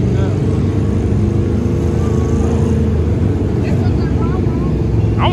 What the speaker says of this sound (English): All the Lamborghini boys starting up.